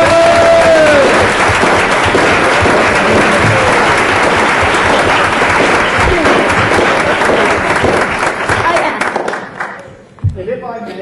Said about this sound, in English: A round of applause and congratulations.